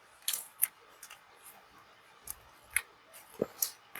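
Scissors snip off the end of a thread while tying a fly, giving a few short, sharp, faint clicks with quiet pauses between them.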